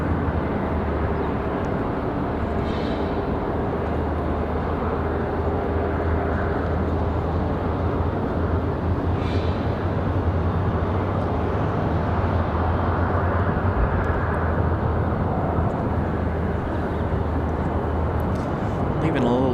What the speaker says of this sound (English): So Lufthansa's off to Frankfurt.